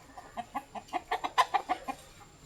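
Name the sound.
chicken clucking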